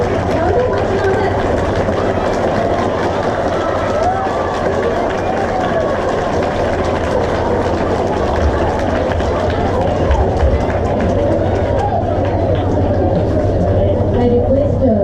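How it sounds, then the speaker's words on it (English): Children in an assembly keep up a long, louder round of applause, a thick, unbroken rattle of many hands clapping at once, steady and close, with scattered crowd voices beneath. "Give a big round of applause and thank him."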